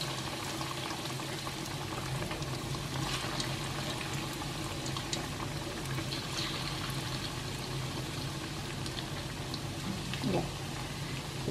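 Continuous sizzling and bubbling of risoles frying in hot oil, a steady crackle with occasional small pops, fairly close.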